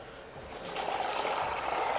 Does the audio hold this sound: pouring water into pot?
yes